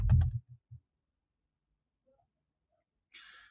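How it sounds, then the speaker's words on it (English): A short flurry of computer keyboard keystrokes at the start, a few separate taps, then silence and a soft rustle near the end. "So what I'm going to do is type tina.io/admin."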